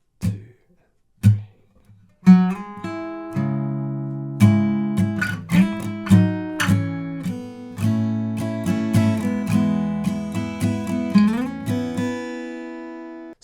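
Acoustic guitar picks the opening line of a song, a few sparse plucked notes before a steady run of ringing chords and single notes, close and clear with no voice.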